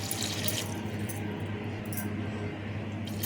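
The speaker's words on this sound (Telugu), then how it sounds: "ఇప్పుడు వాటర్ వేస్తానండి." Water is poured into a pot of tomato curry (tomato charu) cooking on the stove, making a steady splashing pour over a low background hum.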